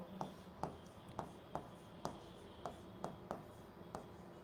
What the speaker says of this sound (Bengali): আমি এখন আরেকটা শব্দ লিখব